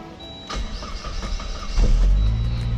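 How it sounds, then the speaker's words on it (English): A turbocharged Saab engine with a new throttle body cranks briefly with a whirring starter, catches, and settles into a steady, fairly loud idle up close. "First start on the new throttle body, and nice fresh start. Started nicely."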